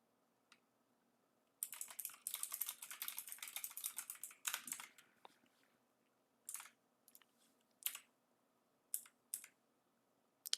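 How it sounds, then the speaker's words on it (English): Rapid bursts of computer-keyboard typing, a dense clatter of keystrokes for a few seconds, then scattered single clicks and short taps spaced apart, quiet and close. "Let me type that over."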